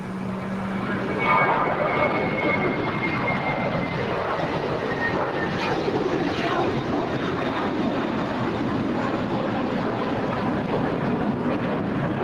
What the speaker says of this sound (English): Got a Frontier A320neo now departing on runway 25 right.